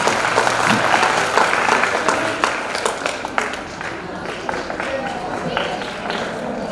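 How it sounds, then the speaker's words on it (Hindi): Audience applause welcoming a guest at an institute's welcome ceremony: dense, continuous clapping from a crowd for about seven seconds, loud and steady with slight swells, voices faintly mixed in. "जोरदार तालियों के साथ स्वागत करें।"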